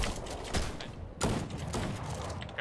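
Gunfire in the Fortnite video game during an FNCS competitive match, with shots mixed into a dense, busy game soundscape and strong broadband bursts near the half-second mark and again around 1.2 seconds.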